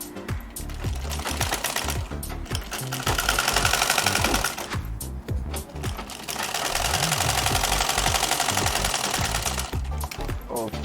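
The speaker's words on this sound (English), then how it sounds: "You sew it to make sure this flap is sewn." A sewing machine stitches down the pocket flap of an Ankara fabric men's shorts, its steady rapid whir running in two long bursts with a short pause between them.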